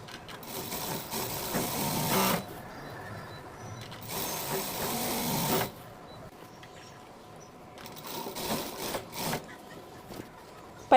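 Sewing machine with a single foot stitching a princess cut blouse, running in two long whirring bursts and then shorter runs with pauses between, close and steady, no talk.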